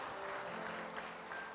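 Church congregation applauding during a sermon, a steady dense wash of clapping heard faintly and at a distance, with no distinct individual claps standing out.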